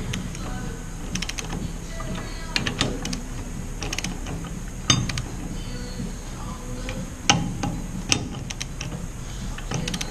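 Torque wrench clicking while tightening aircraft main gear hardware on a Zenith 750 Cruzer, sharp scattered clicks and ratcheting over a mechanical background, with a few louder snaps standing out.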